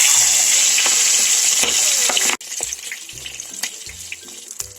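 Mustard oil pours into a heated clay handi for a Bengali pabda fish curry, giving a steady hissing, watery rush close by that cuts off sharply, followed by lighter sizzling and a few soft clinks.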